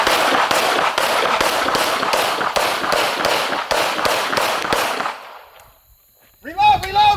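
Pistol shots ring out in a fast rhythmic string at an outdoor shooting range, roughly twenty loud sharp cracks evenly spaced, followed by a brief quiet and then voices shouting.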